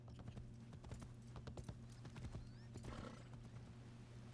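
Steady clip-clop of a horse's hooves while riding through a village in Assassin's Creed Shadows, rhythmic and fairly quiet, with an occasional whinny and ambient village sound beneath.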